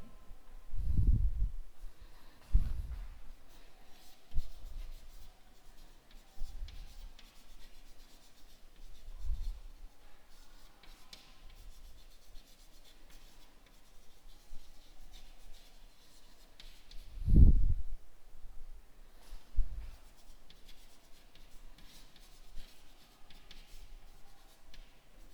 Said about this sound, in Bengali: চলো লিখি আমরা